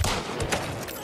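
A gunshot lands a headshot in the Hunt: Showdown video game, one sharp close crack followed by a second report and a dense lingering rumble.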